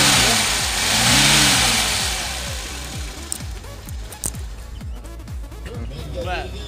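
A Zhiguli car engine runs close by and is revved: a loud rising and falling roar, then a rapid pulsing idle with further small throttle blips, with voices talking over it.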